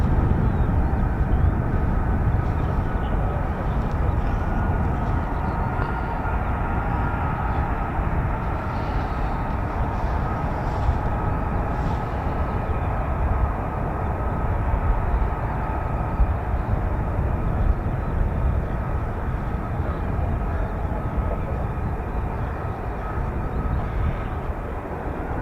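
F-35B stealth fighter jet flying at RAF Marham, heard as a steady, broad roar of jet noise that holds loud and unbroken throughout, with no voices over it.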